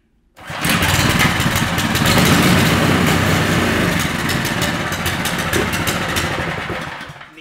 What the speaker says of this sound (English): We need to put some oil in this engine, do a test fire